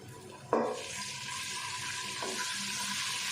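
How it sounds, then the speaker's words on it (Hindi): A spoonful of garlic drops into hot oil in a pan and begins sautéing, with a sharp initial hiss followed by a soft, steady sizzle heard close up without any voices. "एक मिनट के लिए हम इसको सौते कर लेते हैं ताकि अच्छी सी इसकी खुशबू आ जाए"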